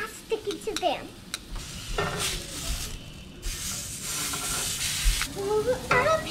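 Steak sizzles in a pan while being stirred and moved around, a hissing fry with bursts of scraping and clatter. A voice talks over it at times.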